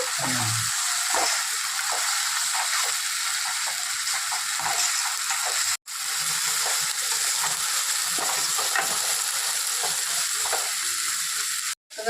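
Onions frying with masala for chicken curry, a steady loud sizzle throughout with faint stirring scrapes and one brief break near the middle.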